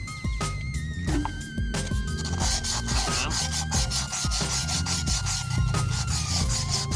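A cut glass edge is sanded by hand with water, giving continuous close rubbing and scraping strokes that stay steady throughout with no talk.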